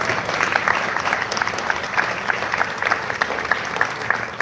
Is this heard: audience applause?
yes